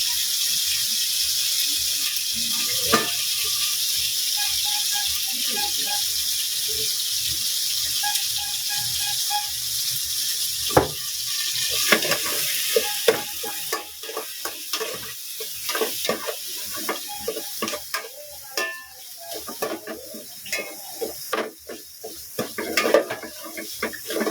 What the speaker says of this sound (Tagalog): Naigisa mo na, susunod mo na itong miso.